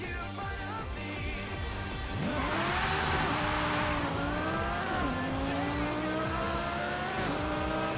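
A car with a swapped engine in the racing game Forza Horizon 5 revs and shifts through gears, pitch climbing and dropping repeatedly, with tire squeal partway through, all moderately loud and continuous.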